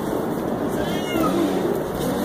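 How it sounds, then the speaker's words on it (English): A cat meows from up in a tree, one drawn-out meow set against a steady rushing background. "why are you meowing in that tree over there?"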